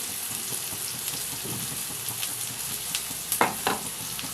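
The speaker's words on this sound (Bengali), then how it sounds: "দিয়ে এবার মশলাটাকে কষিয়ে নিতে হবে ভালো করে" Spice masala fried and stirred in a pan for a paneer curry made without onion or garlic, a low steady sizzle with soft spatula scrapes and a few louder knocks near the end, close by and without speech.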